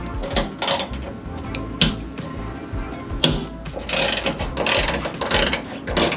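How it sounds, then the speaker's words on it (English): A socket ratchet clicks in quick bursts as it backs out tie-down bolts from the floor of a van, with rapid pawl clicking and metallic knocks, close and fairly loud, and no one speaking. "So I have this little attachment for my socket. Fits right in there."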